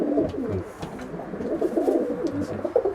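Tame pet pigeons coo in low, repeated rolling phrases close by, a steady murmur of several birds throughout with no talk.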